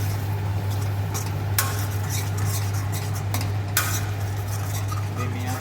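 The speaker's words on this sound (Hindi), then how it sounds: "इसको करछी को इसमें लाते रहना है ताकि ये नीचे ना लगे" A ladle scrapes and stirs tomato paste in an iron kadhai over low heat, soft continuous scraping with a couple of sharp metallic clinks against the pan and a faint sizzle beneath, with a steady hum throughout.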